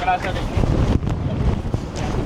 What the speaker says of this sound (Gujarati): બહુ એટલે બહુ જ હવા આવી રહી છે